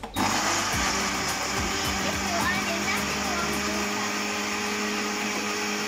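A blender whirs loudly and steadily as it blends pepper and tomatoes, with a sharp start and a constant motor drone throughout and faint voices in the background.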